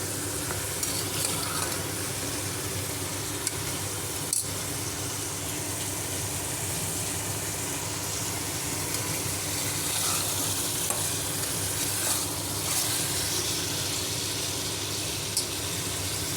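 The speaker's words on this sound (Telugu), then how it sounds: "ఒక 6 to 7, 8 minutes కొంచెం ఆయిల్లో ఫ్రై కావాలండి అది." Mutton curry fries in oil in a pan, a continuous close sizzle broken by occasional scraping clicks of a stirring spoon, with no talking.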